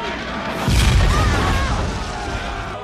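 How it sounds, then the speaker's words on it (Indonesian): A single heavy bomb explosion in the film Enemy at the Gates (2001) bursts out suddenly, close and loud, its rumble lingering and slowly fading with some debris-like noise. "Saat mereka mencoba naik ke perahu, sebuah bom meledak dan melukai Tanya."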